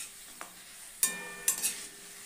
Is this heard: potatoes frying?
yes